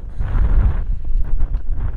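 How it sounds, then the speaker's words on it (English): Strong wind at a Somerset seaside buffets the microphone in a loud, continuous low roar with gusty surges throughout. "It's too windy."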